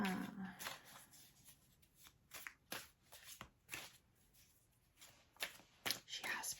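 Tarot cards are shuffled by hand in a quiet room, giving repeated soft riffling and slapping bursts at an irregular rhythm, close and fairly faint.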